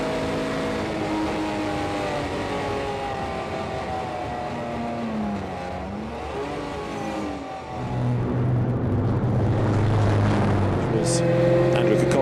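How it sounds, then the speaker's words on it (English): A 1955 Mercedes-Benz 300 SL Gullwing races on a track, its engine droning steadily and rising and falling in pitch as it runs through gears, then swelling louder as it draws near, with a commentator talking over it. "So Laura Kraihamer out on track in this Mercedes-Benz, the 300 SL Gullwing that dates back to 1955 now."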